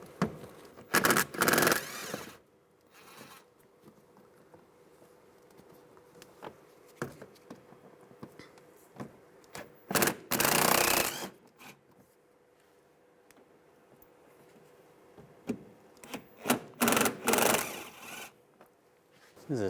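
Screws being removed with a T20 socket on a 2008-2016 Chevrolet Cruze during water pump replacement: a few short, sharp bursts of ratcheting and scraping clatter close by, separated by long quiet stretches of faint handling noise.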